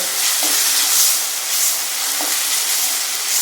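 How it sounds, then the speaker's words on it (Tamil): Constant sizzling crackle of ginger garlic paste frying in a hot pan, steady and close, with a couple of faint utensil scrapes. "நல்லா இஞ்சி பூண்டு பொரியணும்"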